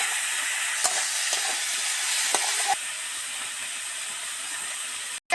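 Onions and vegetables fry in a pan for a vegetarian fig curry, a steady soft sizzle and hiss with a few light clicks of stirring, quiet and close.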